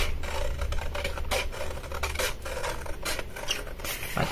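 Material cut out by hand for a homemade advent calendar, a steady close rasping and scraping of blade on paper or card with repeated rubbing strokes, continuous throughout with no talk.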